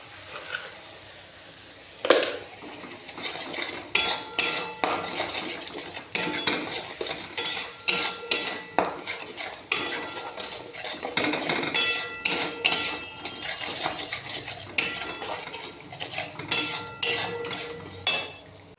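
Spice masala and salt are stirred in a pan with a metal spoon, producing frequent rhythmic scrapes and clanks over a soft frying sizzle, close and moderately loud throughout with no talk.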